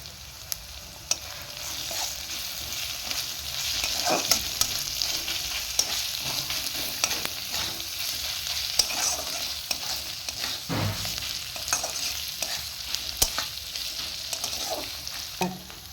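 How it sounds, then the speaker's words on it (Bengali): Oil sizzles steadily in a pan as onions and garlic fry, with occasional scraping stirs and light clinks, no voices. "পেঁয়াজগুলো এখানে ভাজা ভাজা হয়ে গেছে। এবার আমি এর মধ্যে রসুন কোয়াগুলো দিয়ে দিলাম।"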